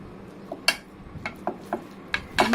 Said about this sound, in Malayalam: നമുക്കിത് ചെറുതായിട്ടൊന്ന് സ്മാഷ് ചെയ്യാം.